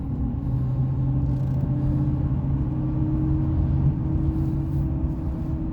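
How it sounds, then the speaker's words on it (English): A Chevrolet Silverado CNG pickup rolls along with a steady, loud low road rumble and tire hum from inside the cab, holding an even level without any sharp jolt standing out. "Tires are a little noisy, but over the big bump there pretty well."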